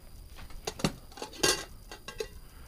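Cheap Stanley metal cook kit pots and pan knocking and clinking as they are handled, several sharp metallic clanks scattered irregularly, close, with no talk.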